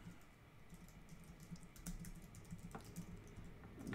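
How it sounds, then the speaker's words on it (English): Computer keyboard typing during a live album-cover sketching show, a steady patter of soft key clicks close by, fairly faint, with a few sharper taps and a low background hum, no voices. "I'm just typing in to get some reference."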